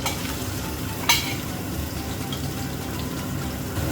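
Julienned carrots fry in a hot pan with garlic, a dense continuous sizzle with one sharp clatter early on and no voices.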